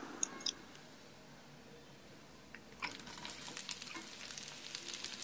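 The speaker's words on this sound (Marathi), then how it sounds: "एका पॅन मध्ये थोडे तेल गरम करा. त्यात एक मोठा तेजपत्ता असेल तर तो टाका, नाहीतर 2-3 छोटे तेजपत्ते टाका." A bay leaf fries in a pan of hot oil with faint crackling and sizzling that grows busier partway through, marked by a few small clicks.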